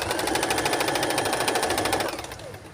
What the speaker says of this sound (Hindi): यहाँ पे हम स्टिचिंग करेंगे